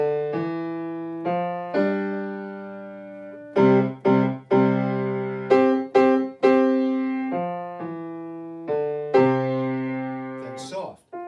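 Solo piano playing in a university piano class, with sustained chords and melody lines. The phrases come in swelling attacks that decay and are separated by short gaps, loud and close.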